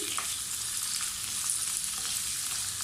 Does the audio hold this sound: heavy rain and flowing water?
no